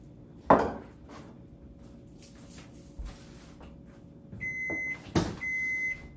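A used Zojirushi bread maker beeps when its bread is done: a few high electronic tones near the end, mixed with kitchen clatter and a couple of sharp knocks.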